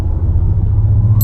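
A Maserati Grecale Folgore electric car launches hard with slight wheelspin, giving a steady, loud low rumble and road roar throughout, with no voices.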